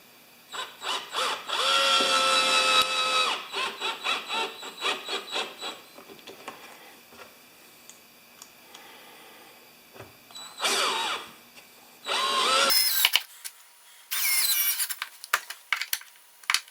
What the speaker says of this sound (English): now I'm just setting the 3 holes with a countersink in each piece